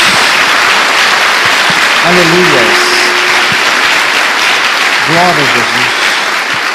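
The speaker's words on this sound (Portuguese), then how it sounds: "Uma salva de palmas a Jesus." A church congregation claps steadily for Jesus during a worship service. The applause is dense and continuous throughout, with a voice speaking over it.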